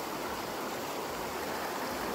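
A mountain stream in the Gutting-Gutting area of Romblon, Philippines, rushes steadily with dense, continuous broadband water noise, loud and close, with no voices.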